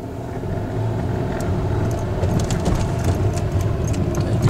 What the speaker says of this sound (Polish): Charakterystyczny dźwięk diesla oczywiście.